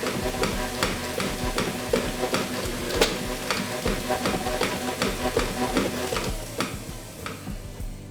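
Cheesecake tart batter whirring in a mixer, a steady busy churn with rapid ticking clicks throughout, continuous and close, with no talking.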